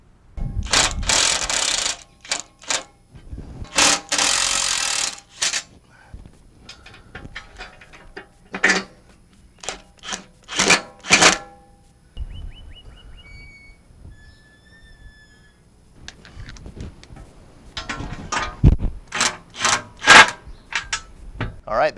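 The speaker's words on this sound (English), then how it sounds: "now all I need to do is loosely bolt it in, get it situated, and then tighten it down" Bolts being fitted and tightened on a Pelfreybilt aluminum IFS skid plate under a 2005-2017 Toyota Tacoma: bursts of clanking metal and ratcheting wrench clicks come in separate spells, with quiet gaps and a few faint tones between them.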